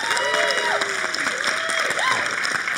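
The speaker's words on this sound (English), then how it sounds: "round of applause." An audience at an investor summit aboard a cruise ship breaks into steady applause, a dense clatter of many hands lasting the whole moment, with a voice speaking over it.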